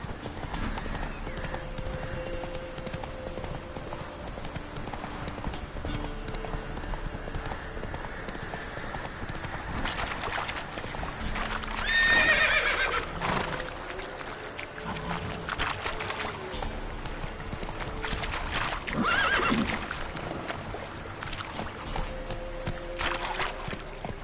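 Roach the horse from The Witcher 3 video game gallops with steady, continuous clip-clop hoofbeats under ambient game sound, a neigh rising briefly midway.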